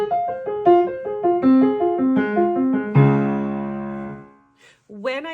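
Solo piano playing CPE Bach's Solfeggietto with the left hand brought forward, running detached notes that end on a ringing chord, followed by a brief spoken voice.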